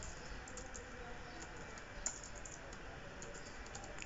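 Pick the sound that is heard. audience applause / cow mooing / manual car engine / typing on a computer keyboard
typing on a computer keyboard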